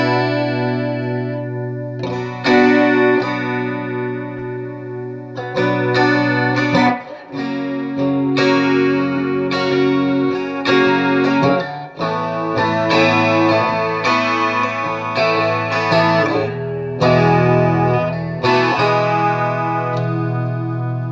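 An electric guitar plays chords and melodic lines through a Danelectro Cool Cat chorus pedal, giving a shimmering, slightly distorted tone that rings loud and continuous for about twenty seconds.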